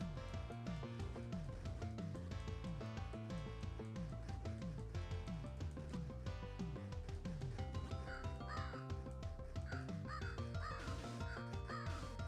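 Crows caw in a Namco Museum PlayStation game, harsh repeated calls layered over busy game music with constant rhythmic electronic tones throughout.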